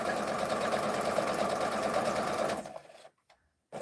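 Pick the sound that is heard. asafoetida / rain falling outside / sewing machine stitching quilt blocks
sewing machine stitching quilt blocks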